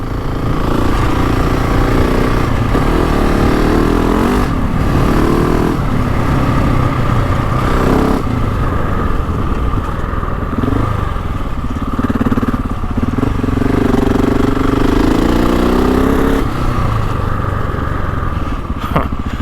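A GasGas ES 700 motorcycle engine running in, a loud steady drone held close for the whole stretch with slight shifts in pitch, no clear speech over it.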